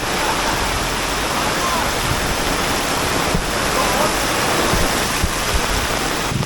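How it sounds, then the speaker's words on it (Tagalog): Floodwater rushes in a loud, steady roar through flooded streets during Typhoon Carina, a broad continuous wash of churning water close by. "Masaklap nito, yung wala ng malalim manhole. Gusto bigla ka lang mawala. Baha na baha."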